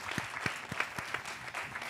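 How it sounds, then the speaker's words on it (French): A television studio audience claps in a steady, energetic burst during a live French variety broadcast, with individual handclaps standing out sharply from the dense applause. "J'aimerais qu'on applaudisse les téléspectateurs pour moi,"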